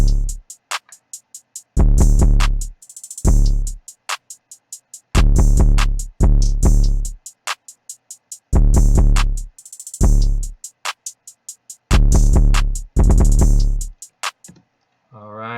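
A punchy hip hop beat with booming deep 808 bass hits and rapid, crisp hi-hat ticks in a steady, rolling pattern, loud and upfront.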